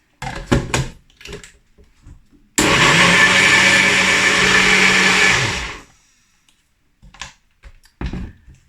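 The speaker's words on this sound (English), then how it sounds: "I'm gonna put the lid on and whiz it up until smooth in my NutriBullet" A NutriBullet blender whirs loudly and steadily for about three seconds while blending a vegan chocolate shake made with kidney beans, then cuts off abruptly, with a few brief clunks and taps before and after.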